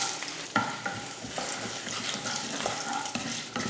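Mustard seeds and curry leaves crackling in hot oil for a carrot stir-fry, a dense sizzle punctuated by repeated sharp pops and spatters, close and continuous with no voices.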